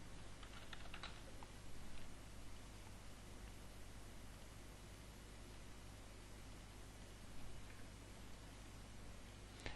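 Computer keyboard typing, faint clicks over steady hiss, a cluster of quick keystrokes early on and scattered taps later.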